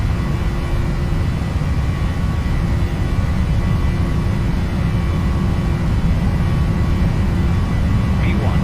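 A Boeing 737-800 in the FSX flight simulator roars at takeoff power with a steady dense jet rumble, and a voice talks over it.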